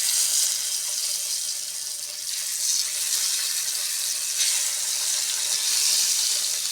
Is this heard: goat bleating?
no